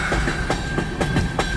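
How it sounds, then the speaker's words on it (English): A long CN eastbound mixed freight train rolls past close by, with loud steady rumble, rhythmic clickety-clack of wheels over rail joints and a thin metallic squeal running throughout. "Is this train gonna end soon?"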